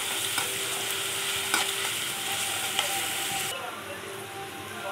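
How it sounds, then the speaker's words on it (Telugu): Freshly made ginger and onion paste frying in hot oil, with a loud, continuous close sizzle and occasional stirring clicks, the hiss easing slightly near the end. "ఈ పచ్చి వాసన పోయిన దాకా కొంచెం ఫ్రై చేసుకోవాలి."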